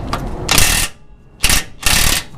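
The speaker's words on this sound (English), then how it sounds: "I'm just going to break this one free but not loosen it all the way" A wrench cracks a bumper hitch bolt loose during a rear bumper swap, heard as two or three loud, close bursts of grinding, ratcheting mechanical noise separated by short pauses.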